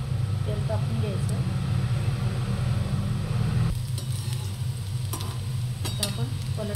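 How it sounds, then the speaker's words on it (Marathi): Pakoras deep frying in hot oil, a dense continuous bubbling sizzle close up, with a low background rumble and a few sharp clicks near the end. "आपलं पकोडे तळून घेऊया"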